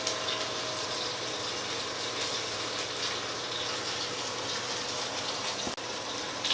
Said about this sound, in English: I'm going to do just a splash of heavy whipping cream